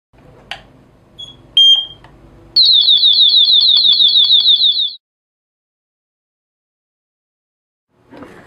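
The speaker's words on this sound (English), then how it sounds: "If smoke enters the smoke detect sensor, APSH50 Smart Hub and alarm siren alert to you." A Z-Wave smoke detector linked to a smart hub sounds its alarm: a few short beeps, then a loud, fast-pulsing shrill siren lasting about two seconds that cuts off into silence, followed by a faint noise near the end.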